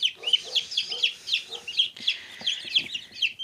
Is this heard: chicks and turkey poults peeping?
yes